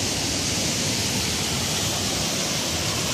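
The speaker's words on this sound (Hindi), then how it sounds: "ये रहा कुछ फॉल। आगे नहीं जा सकते क्योंकि पानी काफ़ी जो है सो तेज है।" Maludah waterfall in Chatra, Jharkhand, roars as fast water falls, a dense, constant broadband rush filling the whole clip, close and loud with no pauses.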